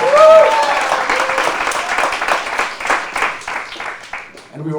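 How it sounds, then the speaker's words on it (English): A book-launch audience gives Omar Al Duri loud, sustained applause, with dense clapping and crowd noise that pulse in waves and fade toward the close, while a voice can be heard over it at the start. "Make some noise for Omar Al Duri one more time."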